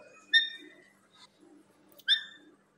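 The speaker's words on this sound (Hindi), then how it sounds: "मैना, मैना, जबरदस्त, वाह प्यारी हमारी मैना, प्यारी मैना।" A pet myna bird gives two sharp, bright whistled calls about two seconds apart, with softer chatter and faint background noise in between, close and fairly quiet.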